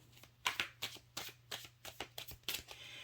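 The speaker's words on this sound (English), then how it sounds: "Okay, let's get one more shuffle." Playing cards are riffled and bridged in quick, soft, fluttering bursts, close and fairly quiet, repeating in an uneven rhythm.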